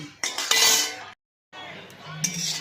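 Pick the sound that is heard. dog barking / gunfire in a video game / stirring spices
stirring spices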